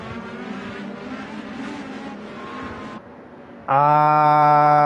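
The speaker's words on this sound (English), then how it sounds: "I heard some engines revving up in the background." IndyCar engines in a PC racing simulation at Big Willow drone and rev steadily, go quieter for a moment, then come back as a loud, close, high-pitched whine from one car.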